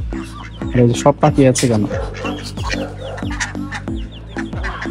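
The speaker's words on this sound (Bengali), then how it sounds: "দেশি মুরগি সবসময় একটু দুষ্ট হয়, কবুতরের খাবার গুলো খেয়ে ফেলে।" Native chickens on a small farm cluck in a busy, overlapping chorus, with close rapid clucks early and steadier repeated calls later, while a person speaks briefly over them.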